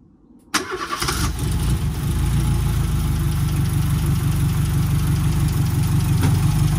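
A car engine being restarted after repair catches abruptly and then settles into a steady, loud, even idle that runs on alone without talk.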